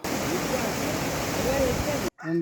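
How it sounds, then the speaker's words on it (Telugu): Water gushes in a loud, dense, unbroken roar from a heavy leak in the Telugu Ganga canal, pouring toward the Penna river, then cuts off abruptly as a voice begins. "భారీగా లీకేజ్ అవుతూ తిరిగి ఆ నీరు వృధాగా పెన్నా నదిలోకి వెళుతుంది"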